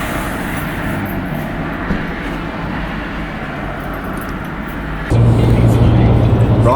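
Car cabin on a long 100-mile road trip, steady low engine and road rumble with tyre noise, continuous and close, growing louder and rougher partway through.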